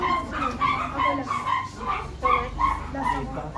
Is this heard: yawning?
no